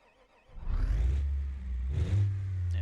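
A diesel truck engine in a video game cranks and catches, then rumbles low, revving up twice before settling into a steady idle; close and alone.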